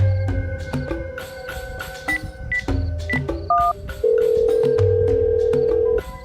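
A mobile phone call goes out unanswered: rapid dialing beeps and short tones, then a long steady ringback tone sounding alone and close, with no one picking up.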